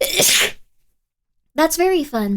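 A single sharp, close sneeze at the start, followed by a pause of silence and then a voice speaking.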